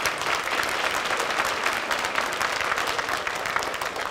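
An audience applauds at a high school spring band concert, steady dense clapping from a large crowd throughout, with no talk over it.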